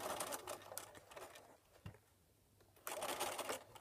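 A home sewing machine stitches an applique in quick bursts of rapid needle clatter. It pauses briefly mid-clip at a corner, with one soft click, then runs again. The machine sounds close and fairly quiet.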